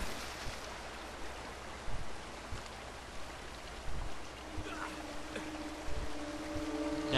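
A waterfall in the video game Uncharted gives off a steady, faint rushing wash of water with occasional soft thumps and a thin tonal hum toward the end.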